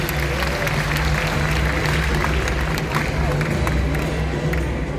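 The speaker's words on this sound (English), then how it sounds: "Okay, now we round of applause." Audience at a bird show featuring vultures at Bird Paradise Singapore gives a steady round of applause, dense clapping mixed with crowd murmur filling the whole moment at close range.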